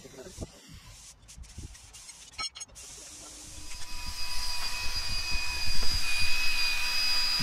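A drill working on a 1995 Ford Bronco during suspension and bumper bracket work, starting with scattered knocks, then a steady high whine that grows louder and continues to the end.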